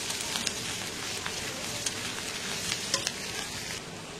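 Fried rice is stirred in a pan over a low gas flame, giving a dense, even sizzle with light scraping ticks of the spatula throughout, close and unbroken by talk.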